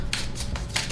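Tarot cards shuffled and drawn from the deck: several short, crisp riffling bursts in a steady rhythm, close and fairly quiet, with no voices.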